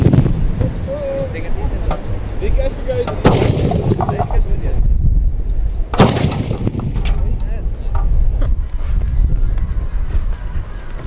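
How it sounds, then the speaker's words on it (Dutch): Carbide cannons fire loud booming blasts outdoors at a New Year's Eve gathering in the Netherlands, two big bangs standing out over wind noise and a constant low rumble. "Wat is nou het mooie aan carbid knallen?"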